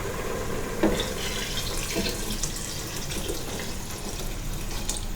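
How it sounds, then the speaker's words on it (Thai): Water pouring steadily into a pot of pumpkin chicken curry in a home kitchen, a continuous soft splashing stream, close and fairly quiet with no talk. "เพิ่มน้ำลงไปครับอันนี้"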